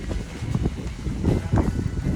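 Steady wind on a hot day, buffeting the microphone with a rough, continuous rumble that swells and gusts throughout.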